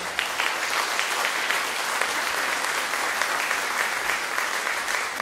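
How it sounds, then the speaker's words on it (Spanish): Audience at a national conference on human trafficking applauds the four panel guests, with steady, dense clapping from a large crowd that holds an even level throughout. "para quienes pido por favor un fuerte aplauso"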